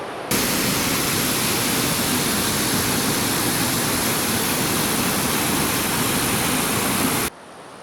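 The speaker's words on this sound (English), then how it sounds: "So this is the Woodbine River, and we're going up to Woodbine Falls." Woodbine River water rushes loudly and steadily near Woodbine Falls in Montana, a dense, unbroken roar of broadband noise that holds constant throughout before cutting off near the end.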